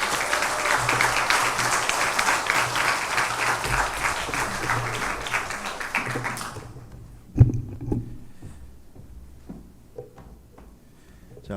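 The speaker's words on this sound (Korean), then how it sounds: "우리 큰 박수로 응원하는 마음으로 우리 모시겠습니다." An audience claps loudly and continuously at a Hanyang University chapel service, a dense burst of applause that cuts off abruptly after about six seconds and leaves quiet room sound with a few thumps.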